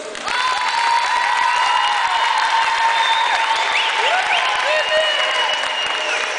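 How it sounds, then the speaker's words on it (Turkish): Applause from a crowd at a boys' school futsal tournament award ceremony in Sultangazi, sustained clapping with scattered cheers and whistles ringing through a large hall. "Huzurunuzda sizden bir ufak bir alkış istiyorum."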